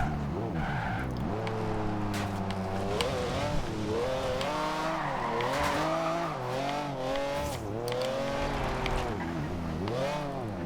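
Engine of a 1997 McLaren F1 GT in the Forza Horizon 2 racing game, a loud continuous revving drone with rising and falling pitch sweeps as the car accelerates, wheels spinning with some squeal mixed in.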